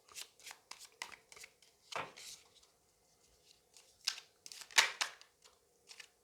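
Tarot cards are shuffled by hand in quick, crisp riffling bursts with short pauses between, close and fairly quiet, with no talking.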